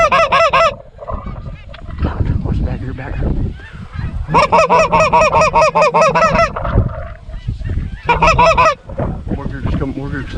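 Geese honk loudly in repeated raucous bursts during a two-man goose hunt in Iowa, with flocks calling close by while someone talks under and between the honking.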